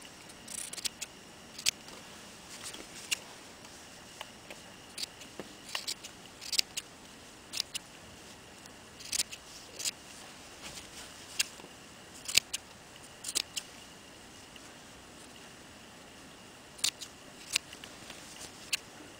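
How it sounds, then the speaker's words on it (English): Small scissors snip loose threads while sewing cuffs, quiet sharp clicks scattered irregularly over a low, faint room hush, each cut brief and close. "trimming up everything, getting all my threads out of there"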